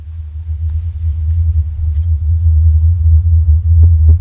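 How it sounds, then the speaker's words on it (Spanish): The Taos hum, a low, mysterious rumbling, holds as a steady, deep drone throughout, continuous and fairly loud with only slight swells and no voices over it. "Ahí tenemos el sonido de Taos de nuevo."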